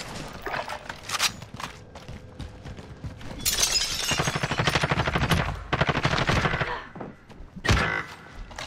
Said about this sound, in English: He's shooting me through a fucking flak somehow.